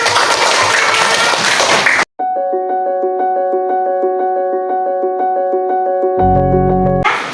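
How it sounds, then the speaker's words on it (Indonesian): Classroom clapping for about two seconds, dense and close, then giving way to a steady electronic melody with a low thumping beat near the end. "coba beri tepuk tangan"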